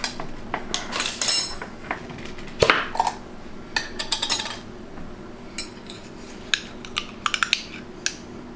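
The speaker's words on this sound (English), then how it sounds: "we're going to add some spicy chili crisp. This is an oil-based product, so I'm going to use a spoon for this." A metal spoon scrapes and clinks against a jar while scooping oil-based spicy chili crisp, giving a run of close, bright taps and scrapes in irregular bursts, with no talk.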